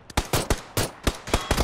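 Pistol target practice in a video game sounds as a rapid string of about eight sharp, loud shots in an uneven rhythm, each one punchy and close, with no talking over them.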